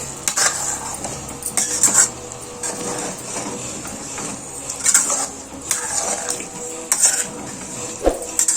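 Chicken curry being stirred in a pot, with a spoon repeatedly scraping and clanking against the metal in uneven strokes, close and fairly loud over a faint simmer.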